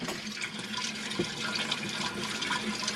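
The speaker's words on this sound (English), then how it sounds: "I'm putting it all the way down and I'm filling up this tank." Water rushes steadily through a tank wand into an RV holding tank, a dense, continuous splashing and gurgling fill sound heard close up without talk.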